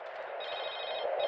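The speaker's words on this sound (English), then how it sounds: "Cell phone." A cell phone rings in the Medal of Honor reboot, a short electronic tone sounding steadily and alone at moderate level.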